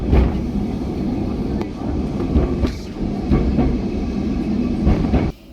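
Lisbon's tram 28, heard from the back of the car, rattles and rumbles along the rails with a steady loud clatter and occasional sharp clicks of wheels over joints, then cuts off abruptly at the end.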